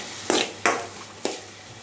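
Onions sautéing with a pinch of salt in a frying pan, stirred in three short bursts of sizzle and scraping that rise and fade, close and fairly quiet, with no talk.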